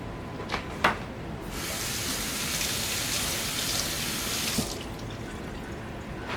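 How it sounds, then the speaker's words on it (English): Pot of fig preserves with butter, sugar and a dash of salt coming up to a boil, a steady close bubbling hiss throughout, with a couple of sharp knocks near the start. "We're coming up to a boil"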